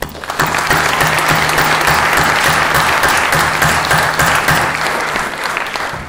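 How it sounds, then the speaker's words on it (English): A chapel audience gives a sustained round of applause for a group of summer interns, steady dense clapping at even loudness throughout, fading slightly near the end. "So I want to give you a round of applause."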